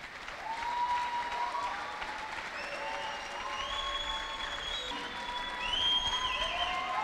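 A church congregation claps steadily through the clip, with high, drawn-out vocal cries and whoops rising over the applause.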